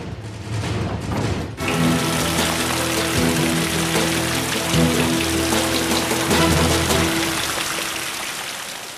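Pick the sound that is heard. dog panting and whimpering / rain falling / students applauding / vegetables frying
rain falling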